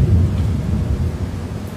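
A heavy rainstorm with thunder pours down outdoors during a solar panel test, a dense, steady low rumble and wash of rain that fills the whole stretch with no voices.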